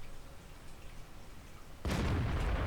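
A tank cannon fires in a video game, one sudden heavy boom aimed at an enemy tank's tracks, breaking out of a low rumbling background and ringing on to the end.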